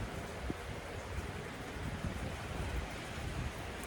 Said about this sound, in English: it's kind of windy out